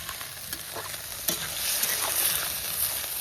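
Aar fish frying in a pan in a village kitchen in Bengal, a steady loud sizzle with repeated scraping and stirring strokes running throughout and no talk.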